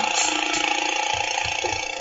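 A weak vehicle engine in the video game Happy Wheels drones steadily and loudly throughout, with low rumbling pulses beneath a broad buzzing tone and no talk over it.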